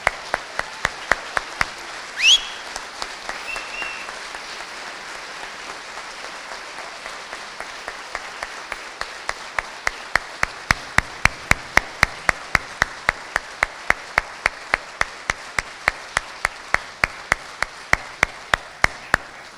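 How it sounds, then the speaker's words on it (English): At a College of Law ceremony, the audience claps in slow, regular unison beats that grow louder and steadier, with a brief whistle early on and scattered clapping at the start. "Ladies and gentlemen, please join me in a warm round of applause as I present to you the College of Law class of"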